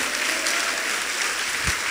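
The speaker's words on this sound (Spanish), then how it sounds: "Dale aplauso al Señor." A church congregation claps together in sustained, steady applause that fills the room, with a dull thump near the end.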